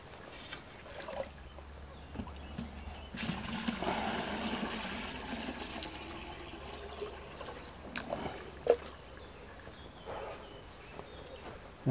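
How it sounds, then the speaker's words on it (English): Water pours from a can onto soil around newly planted tomato plants in a biodegradable frame, a soft steady splashing trickle that swells for several seconds and then tapers into scattered drips, close and fairly quiet. "I'll give them all a drink of water"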